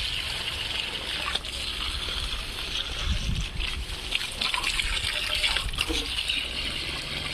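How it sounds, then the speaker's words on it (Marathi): Water gushes steadily from a hose or tap onto watermelon plants in a home garden, a continuous close splashing flow that swells slightly in the middle. "टरबूजाच्या झाडाला पण देऊन घेऊ पाणी."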